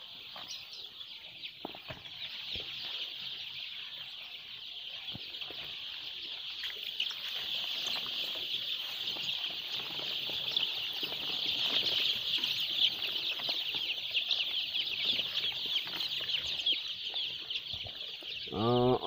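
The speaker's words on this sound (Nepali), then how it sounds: "यो मेरो 5औँ दिनको चल्लाहरू हो, हेर्नुहोला तपाईँको कुखुराको चल्ला।" Five-day-old chicks chirp in a dense, steady high chorus that carries on without a break, close by, with no voices.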